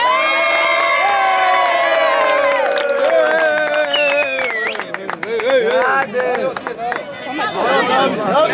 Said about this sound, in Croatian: Veliki aplauz za Luščić.